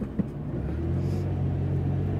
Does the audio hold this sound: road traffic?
yes